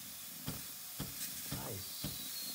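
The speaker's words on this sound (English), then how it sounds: "the steam is also coming out there" The steamer wand of a Breville espresso machine under repair gives off a steady broadband hiss of steam, with faint regular ticks every half second or so underneath.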